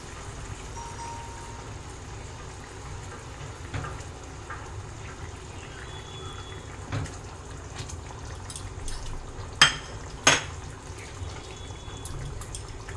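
Hilsa fish pieces go into a pot of boiling curry gravy, giving a low bubbling simmer with a couple of brief wet splashes and clinks near the end.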